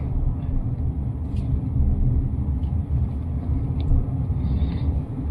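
A Radar RD6 electric pickup cruising at about 40 km/h, heard as a steady low road and tyre rumble with a faint cabin hum and no engine note, continuous throughout.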